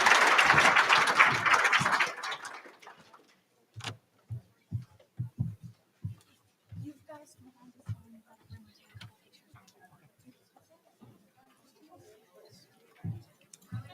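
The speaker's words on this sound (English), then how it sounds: "So a round of applause for our speakers." Audience applause for the speakers at a women's entrepreneurship event, a burst of clapping for about two seconds that quickly dies away, followed by scattered isolated claps and faint voices.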